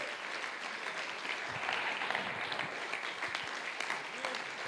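A congregation at a men's church congress applauds with continuous, fairly dense clapping that stays even and moderately loud throughout.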